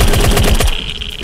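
Rapid burst of gunfire from the LR18 rifle in the zombie survival game Remnants, about six loud close shots in quick succession, then fading into a ringing tail.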